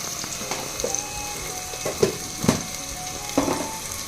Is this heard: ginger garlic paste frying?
yes